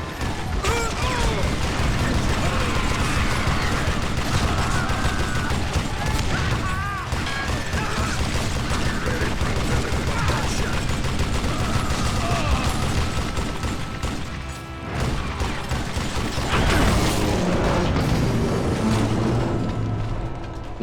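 Old West gunfire from the shooter video game Call of Juarez during a duel battle: a dense, continuous clatter of shots, crashes and mechanical clicks, loud and busy throughout.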